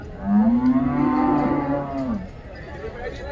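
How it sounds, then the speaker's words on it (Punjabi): A buffalo at the Rampura livestock market gives one long, low moo lasting about two seconds, loud and close, then fades into quieter market ambience. "ਬਹੁਤ ਚੰਗੀਆਂ ਮੱਝਾਂ"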